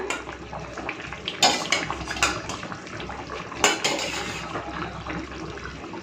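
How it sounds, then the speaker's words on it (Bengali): Fried fish pieces being added to a simmering Bengali fish curry in a pot, with clattering utensil knocks and scraping against the metal, several sharper clanks standing out over a steady kitchen background. "তো এখন দিয়ে দিচ্ছি মাছ, মানে মাছ ভাজা।"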